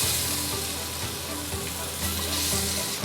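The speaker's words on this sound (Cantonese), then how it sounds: "每面我會煎佢大約1分鐘到，約莫咁樣煎一煎就得噶啦。" Curry-marinated chicken wings pan-fry in a little oil in a stainless steel pan, a loud continuous sizzle with crackling spits and a few light stirring knocks, no talking.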